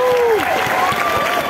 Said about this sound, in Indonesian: Tepuk tangan untuk Muklis.